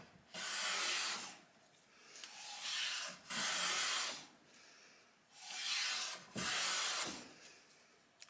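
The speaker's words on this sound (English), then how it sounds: "It's taking good shavings. Really smooth." A Lie-Nielsen No. 4 hand plane cuts wood shavings in five long smooth strokes, each a close breathy rasping hiss with short pauses between passes.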